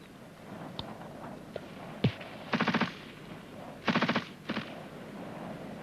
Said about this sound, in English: The gun group will cover us on the left.